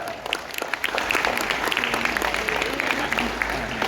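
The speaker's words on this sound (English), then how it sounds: "Thank you so much for the thunderous and encouraging round of applause right at the start" A seated audience at a public speaking championship breaks into a loud, dense round of applause that holds steady throughout, with a few voices faintly mixed in.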